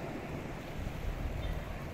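Strong sea waves wash at a community fish landing center, a steady loud roar of surf mixed with wind rumbling on the microphone.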